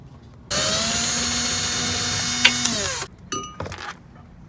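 A loud, steady power-tool whine runs about two and a half seconds, then a few short clanks and scrapes follow, heard while loosening the 17mm caliper bracket bolts on a Mazda 3 front brake with a seized rotor.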